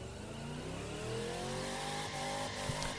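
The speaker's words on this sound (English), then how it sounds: "I guess we have to rev the nuts off it" Sustained, steady car engine drone with rising harmonic whine from a revving vehicle stalled in The Crew 2 racing game, loud and continuous with a faint thump near the end, no talking.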